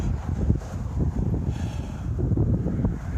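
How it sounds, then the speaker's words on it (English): Strong gusty wind buffets the microphone in a continuous low roar, swelling and easing in uneven pulses with no pauses or voices. "the wind is still blowing"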